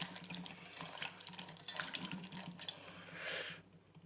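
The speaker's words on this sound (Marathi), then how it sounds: "त्याला स्वच्छ मिठाच्या पाण्यात मी आता धुवून घेतोय" Chopped brinjal pieces are washed by hand in salt water in a home kitchen, giving soft sloshing and dripping splashes, faint and steady, ending with a brief louder rush of water.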